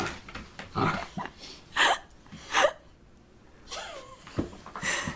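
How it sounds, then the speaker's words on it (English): A dog throwing a tantrum lets out bursts of growling, snorting and huffing in several separate outbursts, close and fairly loud with short pauses between them, and a voice speaks briefly. "Dog throwing tantrums for 4 minutes."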